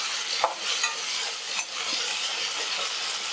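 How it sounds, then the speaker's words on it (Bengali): Sliced onions fry for biryani in oil left over from frying hilsa fish. A loud, close, continuous sizzle is broken by a couple of brief utensil knocks and scrapes. "এই তেলেই বেরেস্তাটা বানিয়ে নিচ্ছি"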